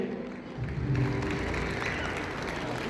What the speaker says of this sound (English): Please give a heartfelt round of applause for your constant support.